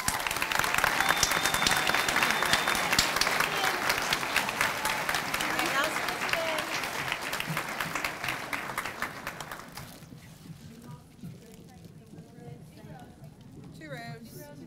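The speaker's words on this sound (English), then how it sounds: "let's give these students a round of applause" A school audience applauds graduating seniors at a senior awards night, dense clapping that stays strong for several seconds and then thins and fades out toward the end.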